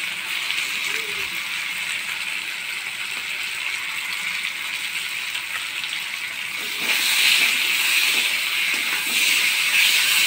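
Shrimp with spices, onion paste, chili and cumin powder sizzling in a pan while being sautéed, a steady bright hiss that swells louder near the end, with no speech.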